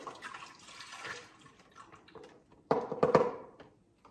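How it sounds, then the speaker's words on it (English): Beef broth pours into a crock pot in short liquid splashes and trickles, soft at first, then a louder burst of pouring near the end, with no talking. "I'm just gonna go ahead and put in the beef broth so this starts heating up."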